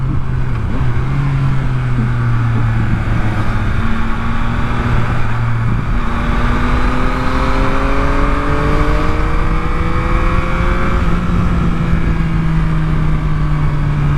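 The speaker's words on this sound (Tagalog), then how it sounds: "stoplight township umiiyak ang makina" A Yamaha MT09 motorcycle engine idles and then revs at a city stoplight, loud and close. Its tone climbs and falls in rising sweeps over a constant roar of wind and traffic.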